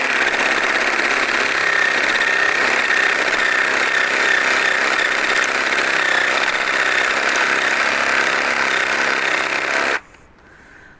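An Einhell TC-JS 18 Li cordless jigsaw cuts through wood with a loud, steady buzzing rasp that runs unbroken for about ten seconds, then stops abruptly.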